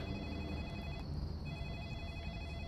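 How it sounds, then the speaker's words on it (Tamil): A telephone in a video game set in a night-shift ice cream shop rings with a steady electronic trill, continuous and fairly clear over a low background rumble, with no voices. "ஓகே, இப்போ திருப்பி இந்த ஃபோன் அடிக்குது."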